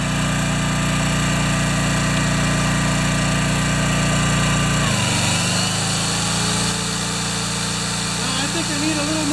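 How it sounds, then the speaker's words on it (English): An electric drill running on an antique Honda EM600 generator at 117 volts: a steady engine drone with a motor whine; partway through the pitch dips and shifts as the drill comes under load, then keeps running. "Let's see how the drill does."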